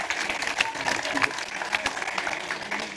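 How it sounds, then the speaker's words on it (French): Audience applause at a French rap battle, a spread of scattered hand claps with crowd noise and some voices mixed in, lively and fairly close. "Il est drôle quand même, on peut l'applaudir."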